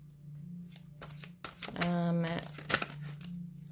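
Tarot deck being shuffled, a quick riffle of card flutter and soft slaps heard close up, with a steady low hum underneath and a person talking over parts of it.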